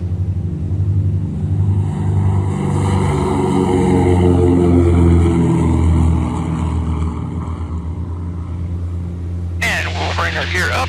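Steady loud engine roar of a small aircraft accelerating down a runway on a hot day at takeoff, droning continuously in the cabin, with a pilot talking over it near the end.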